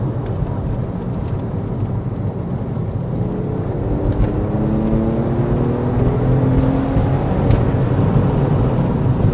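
A manual Porsche 911 Carrera S (997.1) drives hard and downshifts, its engine roar close and loud throughout with rising and falling rev sweeps as gears change, steady road noise underneath and no talk.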